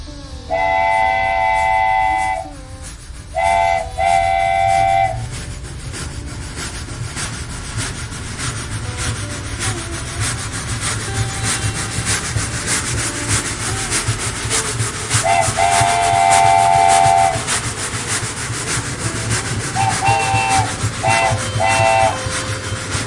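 A train rumbles along continuously while a loud steam whistle blows several times, long blasts at first, then shorter ones later.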